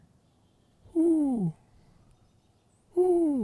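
A human voice imitates a distant owl at dusk with two drawn-out, falling "hoo" calls separated by a short pause, each clear and alone against a quiet background.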